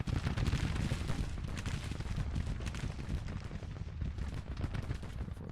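Dense, continuous Civil War rifle fire, including rapid Henry repeater volleys, crackles and rumbles in a battle in the strategy game Grand Tactician, with overlapping shots near and distant.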